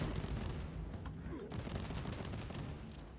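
Automated turrets blasting away in Warhammer 40k Inquisitor Martyr, a dense, continuous rattle of rapid gunfire that stays steady and fairly loud throughout, with game combat noise layered underneath.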